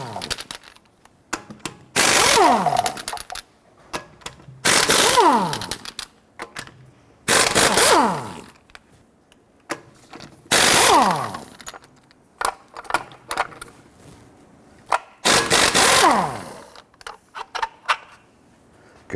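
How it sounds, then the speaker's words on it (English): Lug nuts come off a Nissan Frontier front wheel under a 21mm socket, in five loud, close bursts of rapid mechanical rattling separated by short pauses with light clinks. "go ahead, loosen and remove your lug nuts."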